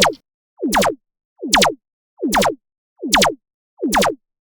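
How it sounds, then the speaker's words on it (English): Repeated synthetic laser zaps with falling pitch fire at an even pace, about five in a row, panning from left to right, clean and electronic with silence between them. "It's a simple laser effect which goes from left to the right"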